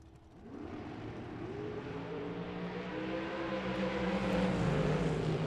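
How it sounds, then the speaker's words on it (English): A winged dragster races down a drag strip at a Las Vegas event, a rumbling engine roar that builds steadily and grows louder from a distance. "Donnie Burleson out of Texas, 455 for the winged dragster over in the right lane"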